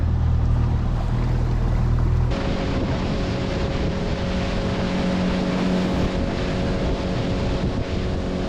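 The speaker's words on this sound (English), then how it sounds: "It's getting a bit windy." Steady wind buffets the microphone on the Murray River, a continuous rushing roar with a low engine-like hum underneath, growing rougher partway through.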